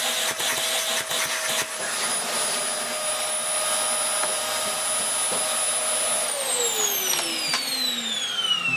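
A Vax Air Steerable Max Pets upright vacuum cleaner runs with a steady high-pitched whine, then its motor winds down toward the end, close and alone.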